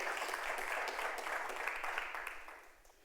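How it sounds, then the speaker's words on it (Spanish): Sunday church congregation applauding during a sermon, a steady wash of many hands clapping at moderate distance that gradually thins and fades toward the end. "dale un aplauso al Señor."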